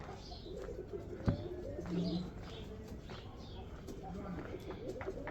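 Doves coo near a nest on Mount Zion in Jerusalem, soft repeated calls over a steady murmur of background voices and outdoor ambience, with a single sharp knock partway through.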